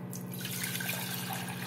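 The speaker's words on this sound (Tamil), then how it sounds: "தண்ணி ஊத்திருக்கேன்." Water poured over soaked rice in a pressure cooker, a steady splashing pour over a constant low electrical hum.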